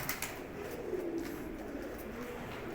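Pigeons in a loft coo softly, a low rolling call rising and falling over a steady hum of other birds, faint and fairly close.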